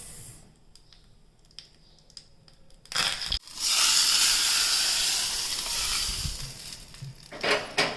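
Curry leaves with coriander-cumin powder and spices hit hot oil in a pan for beetroot raita, bursting into a loud, steady sizzle after a quiet start, with a brief crackling flare near the end.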